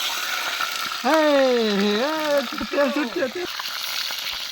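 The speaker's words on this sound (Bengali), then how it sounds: "মাছের মাথাটা ভেজে নিই।" A fish head frying in hot oil sizzles steadily in the background while a voice speaks over it in a drawn-out, sing-song way.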